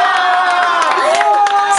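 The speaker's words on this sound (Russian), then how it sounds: "вы можете бесконечно хлопать." At a concert, an audience claps and cheers in a brief, dense burst of applause with shouts and whoops, loud and close throughout.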